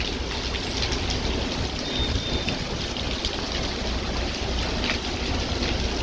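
Heavy rain pours steadily in Hungary, a dense, even hiss of downpour with no pauses, loud and close throughout.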